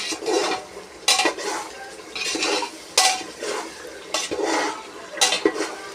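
Meat for biryani is stirred and fried in oil in a pot, with repeated metallic scrapes and clatters of a spoon against the pan in bursts over a soft background sizzle, close by.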